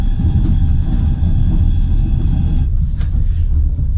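A Ukrainian passenger train rumbles along the rails at night, a loud, continuous low roar with steady vibration heard from inside the carriage, with a brief rattling swell near the end.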